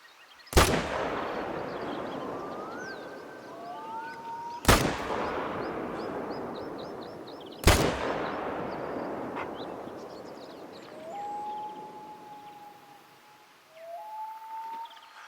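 Three sharp, loud rifle shots ring out about three seconds apart while hunting in theHunter: Call of the Wild, each with a long echoing tail across open terrain, and faint bird calls and whistles fill the gaps.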